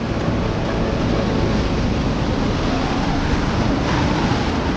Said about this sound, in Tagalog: malakas ang agos na rumaragas ang tubig baha